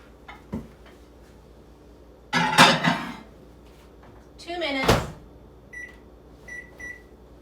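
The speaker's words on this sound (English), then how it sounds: "we've got 2 more minutes on medium in the microwave" A microwave oven running on medium power while cooking mac and cheese: a low steady hum broken by a few clunks and clatters, then a string of short electronic beeps near the end.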